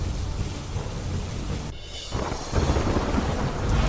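Heavy monsoon rain pours over a flooded causeway and overflowing streams in rural Umarpada, near Surat, Gujarat, a dense steady wash of water with a brief dip partway before the downpour roars back louder and fuller.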